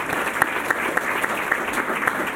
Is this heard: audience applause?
yes